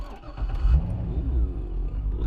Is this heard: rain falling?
no